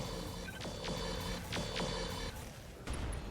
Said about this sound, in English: And now we can fire on the Whitworth. Commencing Alpha Strike.